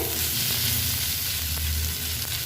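Prawns fry in a hot pan, giving a loud, steady sizzle that holds at an even level throughout with no one speaking.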